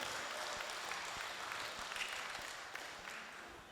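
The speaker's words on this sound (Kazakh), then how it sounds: "екі қолын көтеріп бір шапалақ ұрып жіберейік" Guests at a 60th birthday celebration clap together in a sustained, even round of applause that fades slightly toward the end, heard faintly at a distance.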